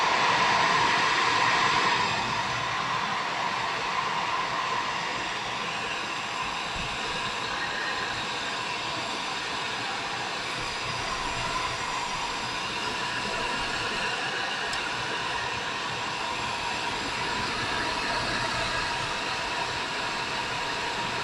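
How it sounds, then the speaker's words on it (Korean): A hair dryer blows in a steady, broad whoosh for about twenty seconds, drying cobalt chloride paper, slightly louder at the start, with no talking. "이 염화 코발트 종이에다가 선생님 한번 드라이기를 한번 틀어서 한번 보겠습니다"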